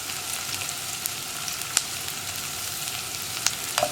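Onions and green chillies sauté with salt in hot oil for a jackfruit seed masala curry, giving a steady close sizzle with occasional small crackles and pops throughout.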